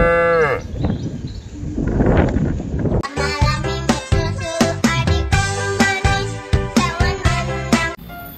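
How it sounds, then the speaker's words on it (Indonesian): A toy cow sounds a long mooing call over steady background noise, followed by a busy stretch of rhythmic toy music with repeated tones. "Ini binatang sapi,"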